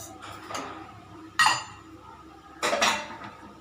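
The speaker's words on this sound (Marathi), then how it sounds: "खवा टाकून घेते साखर टाकून घेते" Khoa and sugar being tipped into a pan of carrot halwa, with a few clinks of a spoon against the metal pan, two sharper bursts standing out over faint background noise.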